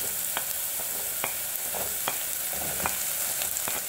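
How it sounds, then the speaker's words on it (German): Potatoes frying in a pan for a Persian lentil stew, a steady soft sizzle with a few sharp clicks of stirring spaced through it, close and fairly quiet. "Ich warte hier, bis die Kartoffeln gebraten sind"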